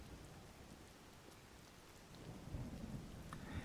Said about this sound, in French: On a de l'orage, il est 21 h